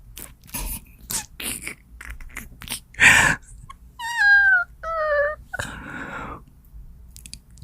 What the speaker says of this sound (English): my kitty cat is climbing down from her perch and making a bunch of noise doing it